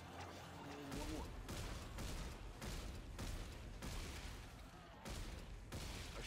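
Loud bursts of gunfire from Dead Space 3, several sharp blasts in quick succession with a brief tonal sound before them and a dense noisy wash between shots.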